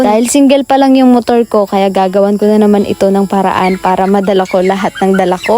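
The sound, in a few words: noisy chickens outside a farm hut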